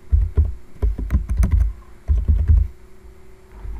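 Bursts of close, fairly loud typing on a computer keyboard: quick clusters of key clacks, a short pause, then another flurry of keystrokes.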